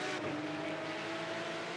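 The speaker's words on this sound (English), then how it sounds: "the flat 6 Porsche engine being tortured by Gladys Veed and Martin Asher" A Porsche flat-six race car in a sim racing game screams at high revs in a steady, sustained wail on the Nürburgring, a loud continuous engine note with a slight pitch shift and no talk over it.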